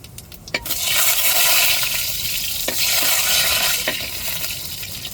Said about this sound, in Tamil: இப்போ எண்ணெய் சூடேறிட்டு நல்லா பொரியட்டும்.